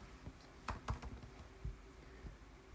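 Keys clacking on a computer keyboard in a handful of quick, irregular strokes, fairly quiet and close, with no one talking.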